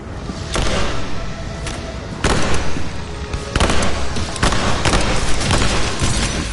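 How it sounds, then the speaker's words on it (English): Gunfire in the game Nobody Wants to Die, a hail of heavy, booming shots and thuds firing in repeated bursts, loud and close with no talk over it. "He treated the next guests with a hail of bullets."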